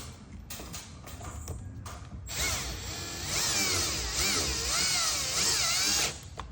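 A 3/16 Allen wrench tightens the bolt on the arm of a Maverick EZ-7000 automatic door opener during installation, giving a steady, close ratcheting and grinding churn that runs for several seconds without talk.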